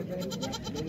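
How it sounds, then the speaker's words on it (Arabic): Goats bleating at an outdoor livestock market, a loud, wavering bleat running through the whole moment over dense crowd and market noise. "الماعز، شو الماعز والحولي ما شاء كيطلبوا في هاد المعيزات"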